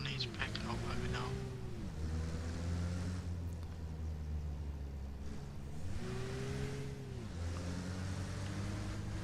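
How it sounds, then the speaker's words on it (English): Car engine in the Arma Reforger military game, a steady low drone that rises in pitch twice as it revs and shifts, loud and continuous throughout. "It's a car."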